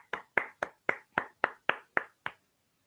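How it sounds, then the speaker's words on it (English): A single pair of hands claps nine times in a quick, even rhythm, close and crisp, acknowledging a speaker at a Toastmasters club meeting, then stops into silence. "let's give him as well a big round of applause"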